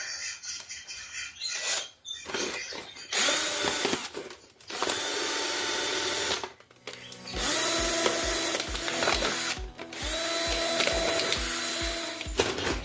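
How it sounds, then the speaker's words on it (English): A power drill whirs in repeated bursts, grinding and buzzing as it bores air holes through plastic containers, with brief stops between holes and some light clattering, close up. "I'm just going to drill right through them"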